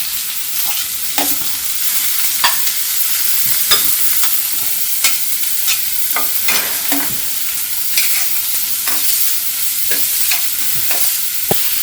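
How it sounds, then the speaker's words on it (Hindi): Onion, capsicum, carrot and mushroom stir-frying in a pan, a loud steady sizzle punctuated by frequent quick spatula scrapes and taps in an uneven rhythm, close up with no talking. "सब्जी को हम चलाते हुए हल्का भून लेंगे"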